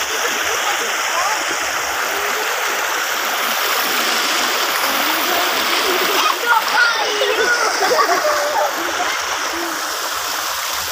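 River water rushes and splashes steadily as people play in the rain, a constant loud hiss of flowing water and rainfall with brief nearby splashes and faint voices underneath.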